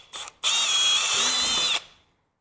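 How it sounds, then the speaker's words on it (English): A handheld power drill bores through a guide hole while a dual sport kit is fitted to a 2019 Honda CRF450X, giving a brief blip and then a sustained close, high whine that winds down. "Now you're going to grab your drill, use that hole as a guide."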